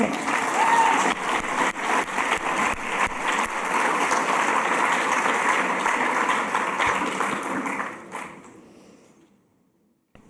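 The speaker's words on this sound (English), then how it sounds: "One more round of applause, please" Audience applause at a women's human rights awards ceremony, a sustained wash of clapping from a large crowd that holds steady for about eight seconds and then fades quickly to near silence.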